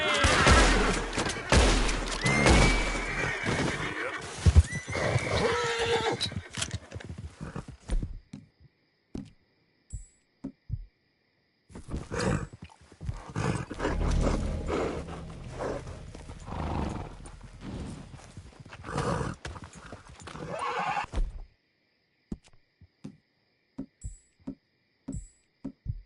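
A horse gallops with rapid clip-clop hoofbeats and whinnies in Red Dead Redemption 2, loud in two long stretches separated by quiet gaps, with a few scattered gunshots and thuds.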